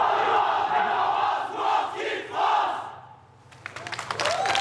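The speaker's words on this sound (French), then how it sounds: "les Français viennent mettre un petit coup de pression avec leur cri de guerre." The French team at the Euroskills finals shouts its battle cry in a loud, surging group roar that swells and falls in waves. Scattered claps and cheering break out at the end.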